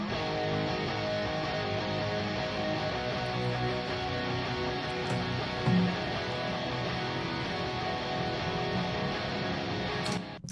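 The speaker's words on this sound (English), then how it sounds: "that guitar tone has no EQ on anything" A heavily distorted electric guitar runs through a Mesa amp and a Victory 4x12 cabinet with Vintage 30 speakers, unequalized, playing a dense, sustained wall of sound in a cover mix for about ten seconds.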